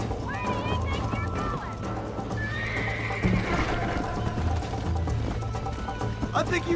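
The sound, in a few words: horse neighing and galloping in video game Red Dead Redemption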